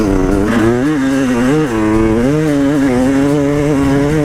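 A Beta 300 Xtrainer and a KTM 300 XCW, both two-stroke dirt bikes, rip along single track with loud, close engine noise whose pitch climbs and dips as the throttle rolls on and off.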